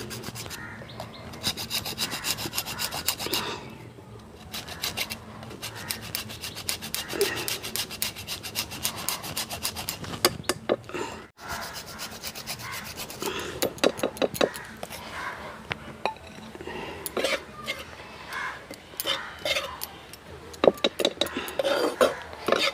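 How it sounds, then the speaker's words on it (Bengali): A block of date palm jaggery (patali) is scraped across a metal grater in a kitchen, giving repeated close, rasping strokes in an uneven rhythm with brief pauses. "এখানে আমি খেজুর গুড়ের পাটালি নিয়েছি, আমি গ্রেটার দিয়ে একটু গ্রেট করে নিয়ে নেব।"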